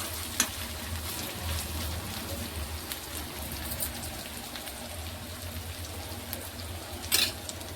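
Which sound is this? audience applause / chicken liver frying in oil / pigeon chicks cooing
chicken liver frying in oil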